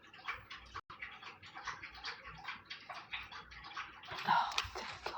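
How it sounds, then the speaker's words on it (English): Rapid, wet lapping and slurping as a dog drinks water, close and continuous with irregular splashy bursts that grow louder near the end. "my dog's gotta be in here slopping up a bunch of dang water"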